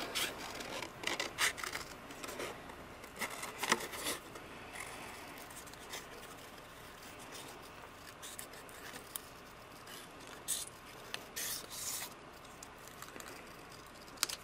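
Scissors cut a small stamped heart out of petal pink cardstock, quiet close snips and papery scrapes coming in short bursts with pauses between.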